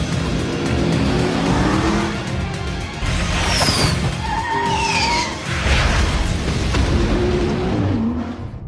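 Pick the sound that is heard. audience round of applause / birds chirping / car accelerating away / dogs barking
car accelerating away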